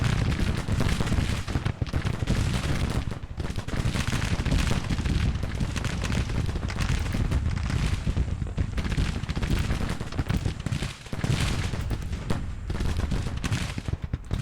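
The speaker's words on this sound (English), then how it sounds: "Okay, those guns are firing." Artillery thunders in the Grand Tactician: The Civil War strategy game, a dense, unbroken barrage of overlapping booms and crackling shots that fills the whole stretch at high loudness, with only brief dips between volleys and no speech.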